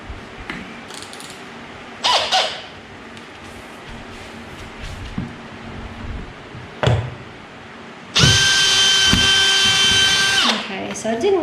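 Power drill with a 4mm bit boring through plywood and metal flooring in a bus conversion, with short bursts and clatters early, then a loud, steady high-pitched whine near the end.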